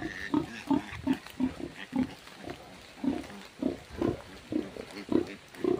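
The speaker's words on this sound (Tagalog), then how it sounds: "Ang ganda ng mga native pigs." Native wild pigs grunt in a steady series of short, fairly close calls outdoors in a natural setting with a large tree, with faint ambient noise between grunts.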